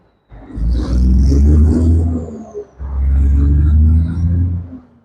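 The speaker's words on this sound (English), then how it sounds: "That was like a loud truck" A heavy truck rumbles loudly past at close range in two surging waves of deep engine roar and road noise, swelling and fading over a few seconds with no talk.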